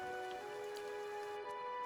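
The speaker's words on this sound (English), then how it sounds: "Maybe we're supposed to wait for this to fill up with rain?" Steady rain in the fantasy role-playing game Pillars of Eternity, a soft continuous patter and hiss heard quietly beneath sustained tonal music.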